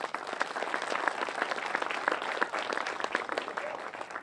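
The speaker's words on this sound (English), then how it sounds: "Let's give all of them a round of applause." Listeners at a neighborhood announcement event in San Antonio give a round of applause for the people just introduced, a steady, moderately distant clapping from a crowd that holds evenly throughout.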